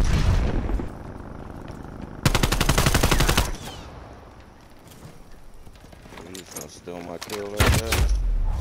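Hostile sentry turret gunfire in a video game, a loud sustained rapid burst from about 2 to 3.5 seconds and another heavy volley near the end, with a voice talking in between.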